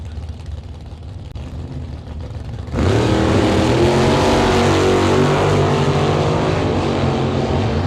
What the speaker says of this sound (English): Stroked small block Chevrolet in that Roadster.